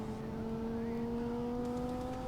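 A car engine holds a loud, steady droning hum with a slight rise in pitch, close up and continuous, with no talking over it.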